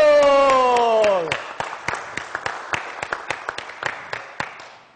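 At a political gathering in São José, a sustained tone fades and gives way to scattered, fairly regular claps from a small audience. The applause is moderately near and thins out toward the end.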